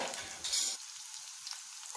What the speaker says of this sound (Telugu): ఆల్మోస్ట్ ఫ్రై అయ్యండి.